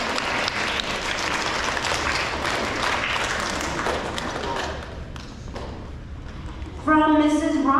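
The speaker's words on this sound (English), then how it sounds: "You may clap for Carter now." A school audience claps for an award winner at an elementary awards ceremony, steady dense applause that thins toward the end before a louder burst of other sound.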